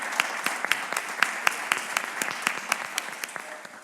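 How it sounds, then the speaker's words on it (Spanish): A small audience at a roundtable panel gives scattered applause: distinct, separate claps from a few people, fairly faint and slightly uneven, thinning out toward the end, with no talking. "Le vamos a dar un aplauso."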